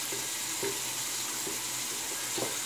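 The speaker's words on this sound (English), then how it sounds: "So we're going to wet the face. Tap water's warmed up." Warmed tap water runs steadily from a faucet into a sink, a constant close hiss with small splashes and handling sounds as the face is wetted before shaving.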